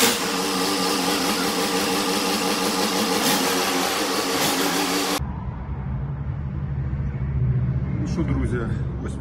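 Orion JD 504 tractor engine running as the machine is driven out, a loud steady mid-pitched diesel drone that shifts character midway, with someone speaking over it.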